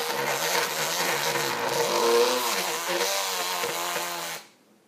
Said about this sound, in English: the noise you hear are the sides of that spinner hitting the sides of the container